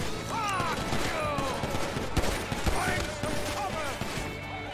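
Gunshots crack out in GTA V on a FiveM roleplay server, several sharp reports midway through over background game sounds and chatter.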